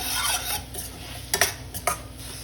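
Coriander stems and curry leaves sauté in a pan for rasam, a soft sizzle under a few sharp clinks and scrapes of a spoon against metal, close by and without speech.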